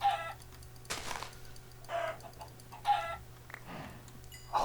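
Chickens in Minecraft clucking in short repeated bursts, several distinct calls spaced a second or so apart over a quiet background.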